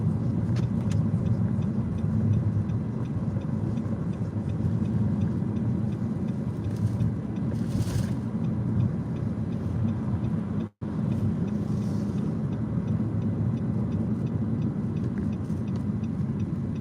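A car on a Sunday morning drive past Channing's Knoll, steady low engine and road rumble from inside the cabin, continuous and fairly loud with a brief cutout near the end and no talking.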